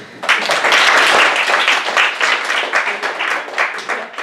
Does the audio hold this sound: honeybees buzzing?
no